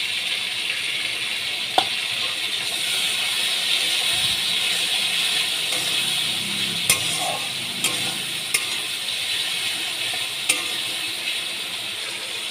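Tomatoes fry in a pan with turmeric, giving a steady soft sizzle and hiss throughout, with a few sharp clicks of a utensil against the pan and brief stirring scrapes.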